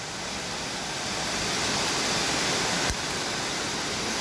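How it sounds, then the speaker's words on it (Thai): Mae Sa waterfall in Chiang Mai roars as a loud, steady broadband rush of falling water, continuous and close throughout with no voices. "โอ้โห เสียงน้ำตก"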